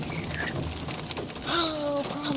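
Steady rain falls outside during a flooded, muddy morning, an even close hiss of drops on surfaces throughout, with faint bird cooing mixed in.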